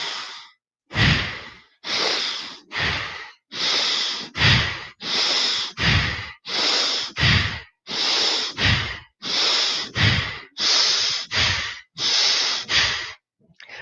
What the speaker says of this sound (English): This is a kind of breath of fire